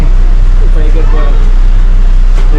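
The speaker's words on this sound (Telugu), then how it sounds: "కేరళ లోకల్ బస్లో కూర్చున్నాం" Steady engine rumble and road noise fill the cabin of a moving local bus in Kerala, loud and continuous, with faint voices and rattles in the background.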